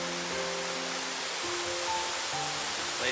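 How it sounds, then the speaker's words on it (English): Small waterfall on a jungle hike near Ubon in Thailand, a steady broadband rush of falling water filling the whole scene, with faint tonal sounds from birds or insects over it. "Nice little waterfall."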